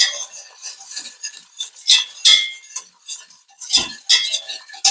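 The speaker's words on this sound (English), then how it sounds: "Let me get a whisk. We're going to whisk that up." A metal whisk scrapes and rattles quickly inside a pot of melting pumpkin-spiced mixture for rice krispie treats, loud close bursts of rasping clinks in an uneven rhythm with brief gaps.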